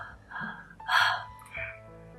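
A voice imitates the shifting breathing of a dying cancer patient in a hospice room, a few short, uneven breathy gasps with pauses between them, close and fairly quiet.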